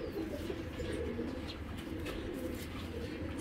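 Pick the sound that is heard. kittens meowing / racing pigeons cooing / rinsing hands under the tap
racing pigeons cooing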